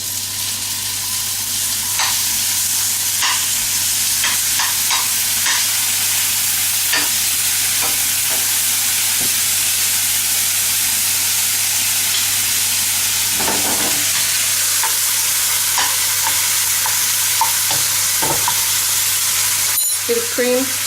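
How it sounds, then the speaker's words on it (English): Stock poured into browned mushrooms in a hot pan, giving a loud, steady sizzle and frying hiss throughout with occasional stirring scrapes and clicks, no talking. "Your mushrooms browned. You want to add your stock."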